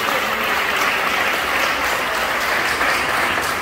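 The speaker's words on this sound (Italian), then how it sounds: "grande applauso a una persona." A crowd applauds steadily at the Festa delle Caterinette in Trani, Italy, dense clapping sustained at even volume for a few seconds.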